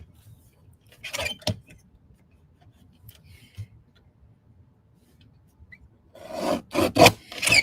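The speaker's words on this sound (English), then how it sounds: "I'm going to trim it just a tiny bit." A craft card piece is trimmed at a paper trimmer in a card-making session: short scraping, rasping strokes come in two brief bursts, close and crisp, with quiet gaps between them.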